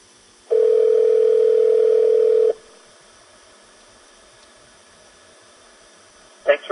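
Steady dial tone from a phone call placed through a BMW Bluetooth car hands-free system, a single loud continuous tone of about two seconds that cuts off into quiet hiss, with a brief sound at the end.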